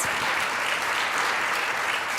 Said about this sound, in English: All these people deserve our round of applause